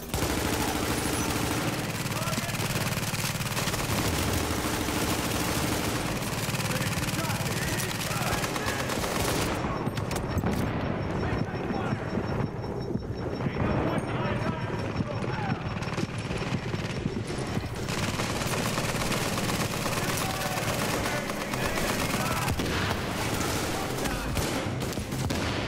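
Gunfire in Tom Clancy's The Division as a player shoots at and wrecks a turret, a dense, continuous barrage of rapid shots layered over game effects and music for the whole stretch, loud and unbroken.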